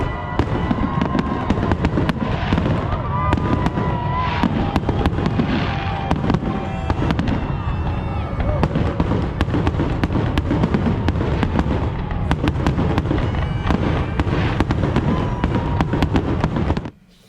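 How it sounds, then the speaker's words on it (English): New Year's Eve fireworks bursting continuously, dense sharp cracks and booming explosions in rapid irregular succession, loud and close throughout before ending abruptly. "the New Year's Eve fireworks that I just posted recently, that was all shot in open gate"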